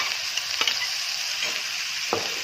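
Turmeric, curry leaves, green chillies and finely chopped onion sizzle steadily in a hot pan as a tempering for corn upma, with a few brief scrapes of stirring punctuating the continuous frying hiss.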